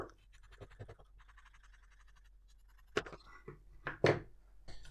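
Exhaust heat wrap for a Brixton Felsberg 125 motorcycle exhaust manifold is cut close up, with quiet scratchy snipping and rasping that grows into a few louder sharp cuts near the end.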